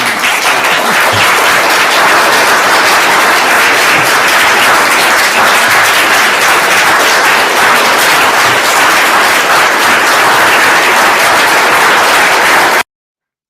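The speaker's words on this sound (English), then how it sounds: "They're clapping for the lawyer." Courtroom audience applauding a lawyer: dense, steady clapping from many hands, loud and continuous throughout before cutting off abruptly near the end.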